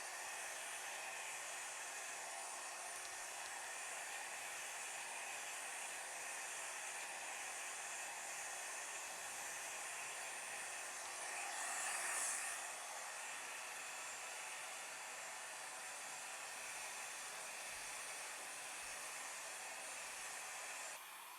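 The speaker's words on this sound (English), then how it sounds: "I'm just going to blow dry my bangs going this direction, then this direction" A hair dryer blow-drying bangs blows steadily and loudly for the whole stretch, a constant airy roar that swells briefly partway through.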